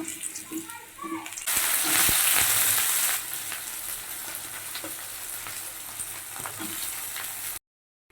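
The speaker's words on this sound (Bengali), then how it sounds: "এখানে হচ্ছে মাংসটা কষা হচ্ছে" Chicken meat sautés in a pan for chicken kosha with a continuous sizzle and stirring. A louder hissing surge comes early on, the sizzle settles back, and it cuts to silence at the very end.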